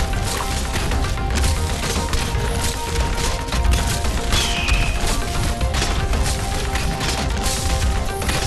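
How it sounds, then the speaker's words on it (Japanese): A loud chainsaw roars steadily throughout, its engine drone mixed with gritty grinding and splintering wood crunches. "チェーンソーのうなり声が聞こえる。"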